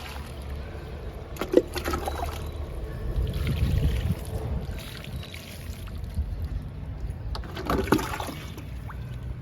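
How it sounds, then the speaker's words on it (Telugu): Water poured onto a potted jasmine plant splashes and trickles into the soil in a few uneven bursts, close and soft against light outdoor background noise. "వాటర్ ఇచ్చేద్దాము."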